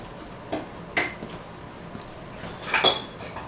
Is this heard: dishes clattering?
yes